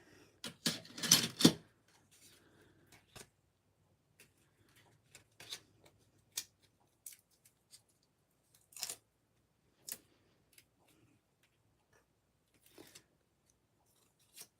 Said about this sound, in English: I need to come cut some more foam adhesive sheet pieces.